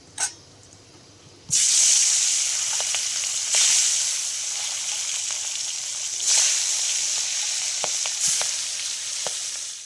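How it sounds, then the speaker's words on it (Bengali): Jiol fish hit a hot wok with a little oil over a wood fire and set off a sudden loud sizzle and hiss that carries on steadily, with a few sharp pops and surges along the way. "জিওল মাছ ভাজতে গেলেই তো ফাটে ওই জন্য অল্প করে তেল দিলাম"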